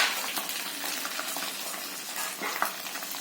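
An egg drops into a hot wok and fries with a constant crackling sizzle, moderately quiet, with small scraping and spattering pops scattered over it.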